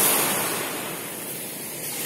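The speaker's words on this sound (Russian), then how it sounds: "Вот такие тут всего лишь волны." Soft, steady wash of small waves breaking on a beach, a continuous gentle surf hiss with no voices.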